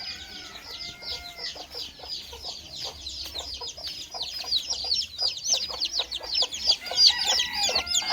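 A hen clucks among her chicks, with a busy, continuous stream of high peeping chirps from the young and low clucks underneath, close by and growing louder toward the end, with no talk.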